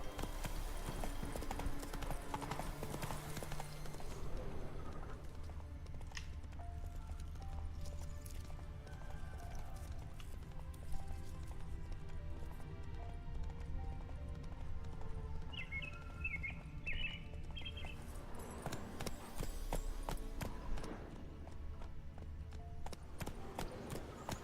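Roach the horse gallops in The Witcher 3, hooves clip-clopping in a steady running rhythm throughout, with a brief whinny and faint birdsong in the background and occasional light voice.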